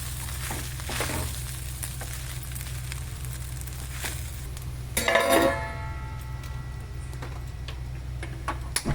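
Foxtail millet upma stirred in a pan over a steady low hum, with soft scrapes and taps of a spoon against metal and a louder clattering burst partway through, close and without talk.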